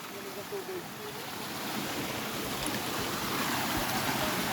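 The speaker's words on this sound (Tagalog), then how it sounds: "Yan po, ilog." A constant broad rush of flowing river water, close and steady, with a faint voice in the background.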